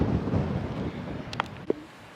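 Cold wind blows across a castle ruin on the shore of Loch Ness, a faint low rumbling buffet on the microphone that eases off, with a couple of brief clicks near the end.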